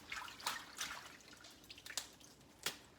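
Freshly picked mustard greens being washed by hand in water, with soft splashes, drips and trickles in an irregular rhythm, faint and close.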